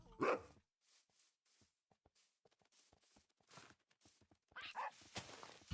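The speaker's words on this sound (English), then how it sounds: "I knew I heard some barking a minute ago" Dogs bark in the Minecraft video game, with a sharp louder yelp at the start and another burst near the end, separated by quieter clicks and faint footstep-like taps.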